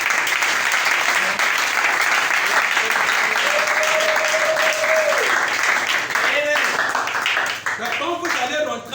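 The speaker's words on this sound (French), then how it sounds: "Est-ce qu'on peut acclamer très fort pour Branham?" Loud, continuous applause and clapping from a large audience at a gathering honoring Branham, steady throughout with a brief tonal whistle or vocal sound in the middle and voices mixed in.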